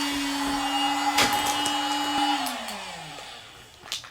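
An electric vacuum pump draws air out in Okinawa, Japan, with a steady close motor whine that holds, then drops in pitch and winds down, broken by a few sharp clicks and handling knocks.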